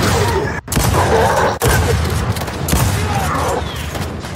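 Sustained heavy gunfire from the Gears of War 4 multiplayer video game, a dense continuous barrage of shots and impacts that stays loud throughout with only brief gaps.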